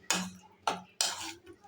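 A spoon stirs chutney in a bowl with three distinct scraping, clinking strokes at a steady pace, close and fairly quiet, with no talk.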